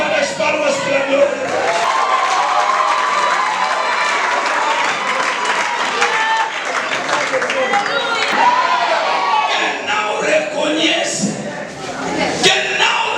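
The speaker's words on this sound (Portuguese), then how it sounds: "chuta as palmas para Deus" A congregation at a church service applauds together, dense sustained clapping mixed with crowd voices and scattered cheers, loud and continuous throughout.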